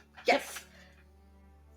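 One short, sharp sneeze, fairly faint and clear against a quiet room, followed by a low steady hum; a single brief spoken word comes in under it.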